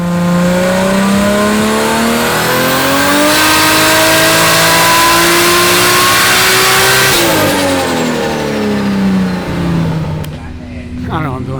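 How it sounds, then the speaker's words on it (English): Tuned Lexus GS300 running on flex fuel at about 700 horsepower, revving up hard through a long climbing wail that peaks and falls away, loud and close, with speech-like voices mixed in. "There's a bit of a car going on in the background there."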